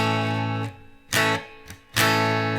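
An acoustic guitar strummed heavy-handed for a louder chorus of a song, with two bold strums of ringing chords separated by brief muted pauses, close and alone.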